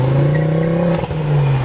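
A tuned Ford ST sports car engine idles with a deep, steady rumble, briefly dipping before settling back to a loud, throaty hum close by.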